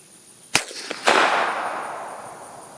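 A 9mm pistol fired outdoors toward woods through a Griffin Armament Optimus silencer gives a sharp crack and a second report about half a second later, followed by a decaying echo and a short clack of the action.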